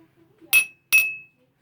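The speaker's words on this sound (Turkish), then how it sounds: "İlk öncelikle boş bardağımı vuruyorum." Two crisp strikes of a spoon against an empty drinking glass ring out close and loud, each leaving a short clear tone that fades, after a faint murmur of a voice beforehand.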